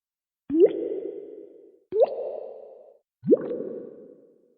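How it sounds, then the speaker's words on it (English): Three separate bubbling gulps of water, each a quick rising plop that trails into a soft burble, spaced about a second and a half apart. "This is what the bubbles sound like."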